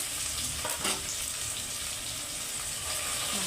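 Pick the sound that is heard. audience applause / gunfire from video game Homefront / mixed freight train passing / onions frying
onions frying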